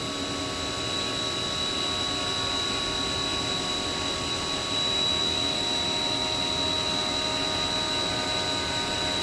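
A Haas VF-3 vertical machining center spindle turns at 5,000 RPM, recorded about eight inches away: a steady, fairly quiet machine whine with a constant high tone over broadband hum, unchanging throughout and with no voices.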